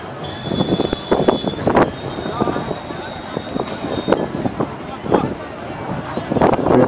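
Strong gusty wind sweeps across an open football ground during a penalty shootout, buffeting the microphone with loud, uneven rumbling bursts and roaring throughout.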